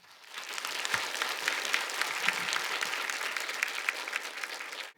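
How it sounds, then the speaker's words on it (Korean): A church congregation at a special Korean prayer meeting welcomes the pastor with warm applause that swells in quickly, holds as a dense, even clatter of clapping for about four seconds, then stops abruptly. "뜨거운 박수로 모시겠습니다."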